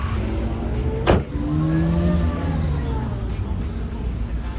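A supercharged old Japanese car engine hums and whines steadily up close at a cruise, with a rising whine over a continuous rumble and a sharp click or thump near the start.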